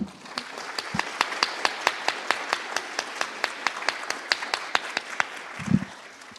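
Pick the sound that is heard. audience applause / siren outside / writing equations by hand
audience applause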